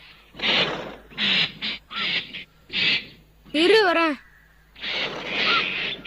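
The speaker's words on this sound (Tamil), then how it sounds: "அந்த பறவை மறுபடியும் வந்துருச்சு." A cartoon bird in the Heidi animated series gives one short, warbling chirp between lines of dialogue, with people talking before and after it.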